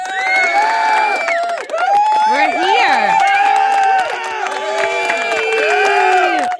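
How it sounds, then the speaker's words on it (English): A loud crowd cheers and shouts at a podcast opening, with whoops and yells over scattered applause and a voice speaking amid the din. "Oh, stop your applause."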